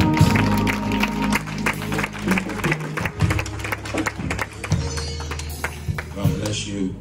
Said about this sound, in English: You're going to clap on.